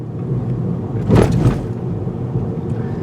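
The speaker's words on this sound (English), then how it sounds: "we're going to take some mild speed bumps around 20 miles per hour to see how the suspension performs on impact" A 2020 Volkswagen GTI 6-speed manual taking a mild speed bump at about 20 mph, a single brief dull thump over a steady low cabin road rumble.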